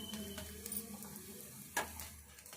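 An aloo chapati sizzles softly on a hot pan, a faint steady frying hiss with an occasional light scrape or tap, no talking.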